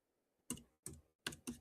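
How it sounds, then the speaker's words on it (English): Four quick, crisp keystrokes on a computer keyboard, close and clear, spaced unevenly against a quiet room with no talking. "I'm typing it"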